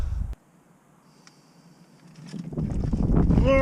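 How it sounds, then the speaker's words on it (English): Wind gusts blow outdoors over a microphone during a transfer case oil change on a Range Rover L322, a low rumble that fades after a brief thump and then builds into loud buffeting. "Oh no, wind, wind, wind, wind, wind."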